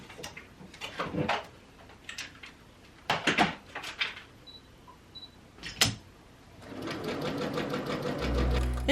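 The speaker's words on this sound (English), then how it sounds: "we're gonna go straight to the sewing machine instead" A sewing machine stitches curtain fabric for a bustier wedding dress in short, close bursts separated by pauses and small handling clicks, ending in a longer, steady run of rapid stitching.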